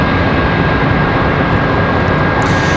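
An airliner departs from Charlotte Douglas airport with a loud, continuous broadband roar of jet engines that holds steady throughout and has no talk over it.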